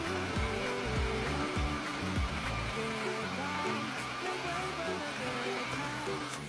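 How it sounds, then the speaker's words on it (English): A hair dryer blows continuously at close range while a foster kitten is dried after a bath, a steady whooshing drone with faint thumps and handling noise early on. "So I brought it closer to him and started blow drying him"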